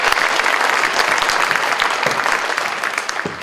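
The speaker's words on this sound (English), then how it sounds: "Round of applause for" Loud, dense applause from a crowd at a small-town county promenade event, a continuous clatter of clapping that holds strong before easing slightly near the end.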